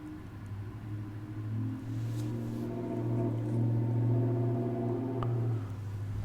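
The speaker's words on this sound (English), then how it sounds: "I have a neighbor that has a Mustang, and it's really loud." A neighbor's loud Ford Mustang rumbles nearby, a steady low engine drone that swells in the middle and holds for several seconds with no talking over it.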